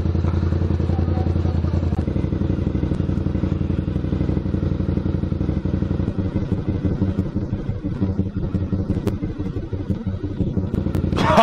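A motorcycle with a fiendishly loud exhaust throbs close by on a street, a continuous heavy rumble with a rapid pulsing beat and clattering crackle that holds loud throughout.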